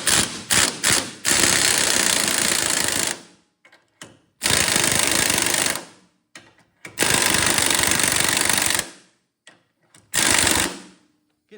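An impact wrench hammers in loud bursts of several seconds each, four main runs separated by short gaps and brief taps, while torsion bars are adjusted on a 1966 Dodge Monaco.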